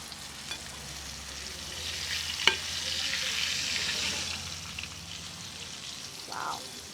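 Pomfret fries in oil in a pan over a low flame, giving a steady soft sizzle with a sharp clack as the fish is flipped, close and fairly quiet.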